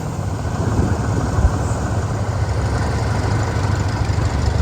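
Heavy tractor engines, including an Oliver and an M, rumble continuously nearby at a tractor show, a low steady idling drone with a faint mechanical rattle and no talking.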